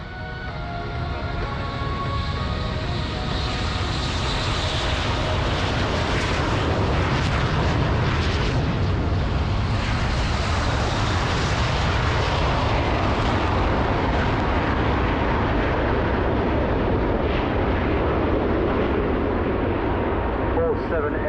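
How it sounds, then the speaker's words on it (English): Seven jets of the UAE's Fursan Al Emarat display team take off at the Farnborough Airshow, producing a loud, sustained jet roar that fills the whole stretch, with a public-address voice faintly underneath. "All 7 aircraft safely off."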